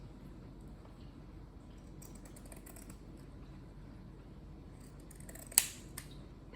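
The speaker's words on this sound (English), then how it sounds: "Yeah, I'm not a big fan of these scissors, to be honest." Pinking shears cutting through upholstery-style fabric, with faint crisp snipping clicks in short clusters and one sharper snip near the end, in a quiet room with no talk.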